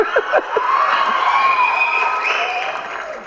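An audience claps loudly and continuously, a dense wash of applause with a few cheers mixed in.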